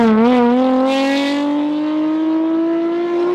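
Koenigsegg Regera and McLaren P1 supercars pulling away, their loud engine note holding a strong, steady drone whose pitch climbs gently as they accelerate, close by with no talking.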